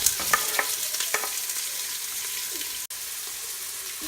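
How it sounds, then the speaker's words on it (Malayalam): One large sliced onion frying in hot ghee for prawn biryani, a steady close sizzle with a few stirring scrapes early on. "ഇപ്പം നെയ്യൊന്ന് ചൂടായി വരുമ്പോൾ അതിലേക്ക് ഒരു വലിയ സവോള നീളത്തിൽ അരിഞ്ഞ് 2ആയി മുറിച്ചതാണ്."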